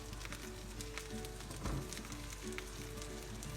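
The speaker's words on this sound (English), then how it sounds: "Oh, I hear that sizzle." Falafel patties frying in a pan give off a steady, close crackling sizzle with fine spattering pops, holding level throughout and briefly louder near the middle.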